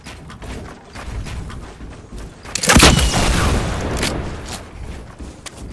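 In an online shooter match, a rocket launches and detonates with one loud booming blast midway through, rising out of quieter background game noise before slowly fading.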